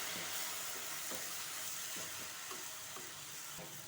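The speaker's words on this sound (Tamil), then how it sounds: "நம்ம எடுத்து வச்ச பீட்ரூட்டு ஜூஸை அதில் சேர்த்துருவோம் சேர்த்து இதை அப்படியே கலந்து விட்டுருங்க" Roasted semolina stirred with beetroot juice in a pan for beetroot laddu: a soft hiss of moisture on hot grains with a few muted scrapes of the spoon, close and fairly quiet, with no talk.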